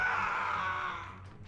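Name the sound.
scream in the video game Xenoblade Chronicles X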